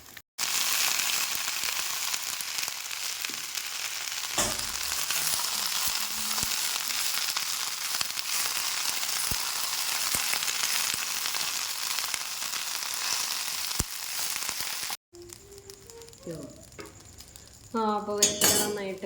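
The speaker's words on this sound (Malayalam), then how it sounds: "നമുക്ക് വേപ്പില വറുത്തെടുക്കാം" Curry leaves frying in oil in a pan make a loud, continuous crackling sizzle with a few faint utensil clicks, then the sound cuts off and a person speaks.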